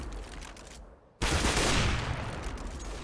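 Gunfire in a competitive first-person shooter match, a brief lull followed by a sudden loud burst of shots and noisy reverberating blast that lingers, with no voices over it.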